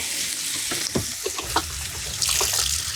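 Water is poured into a hot pan of browned taco meat at a cliffside van campsite, setting off a loud hiss and sizzle that continues with scraping stirs and bubbling.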